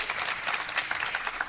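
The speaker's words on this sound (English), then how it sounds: "I do find it a bit frustrating that they clap" An audience claps in a dense, steady round of applause after an Oscar nomination is announced.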